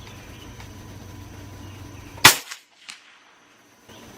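An air-powered BB gun fires a Diabolo pellet, a single sharp crack standing out from quiet outdoor ambience, followed by a faint distant impact tick and silence.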